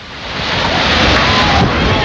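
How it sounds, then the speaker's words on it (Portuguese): Tsunami waves crash and roar in amateur tourist footage, a loud continuous wash of surf heavily buffeted by wind noise on the microphone. "Algumas imagens de turistas, cinegrafistas amadores, dão uma pequena ideia do que foi estar lá quando as ondas causaram tanto dano"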